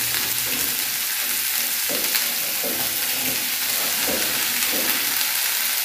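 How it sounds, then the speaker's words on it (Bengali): Fish fat frying in a pan gives a steady broadband sizzle with soft stirring scrapes at intervals; no one speaks. "সেই মাছের তেলটা ভাজবে"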